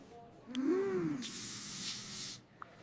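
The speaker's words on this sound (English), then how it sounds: "I spray some perfume." A short hiss of spray lasting about a second, close and soft, follows a brief tonal whoosh.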